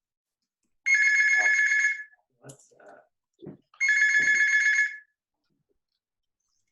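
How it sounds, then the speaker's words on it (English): A phone rings with two loud, close electronic bell-like bursts about a second each, separated by a pause where a couple of voices speak briefly. "that's my phone."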